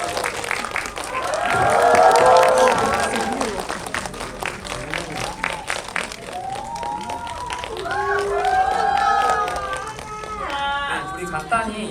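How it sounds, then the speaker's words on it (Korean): An auditorium audience applauds to welcome the actors Im Yoona and Ahn Bo-hyun at a film screening Q&A. Clapping swells, then continues more steadily, with cheering voices and a loud voice over it. "박수로 맞이해 주시죠."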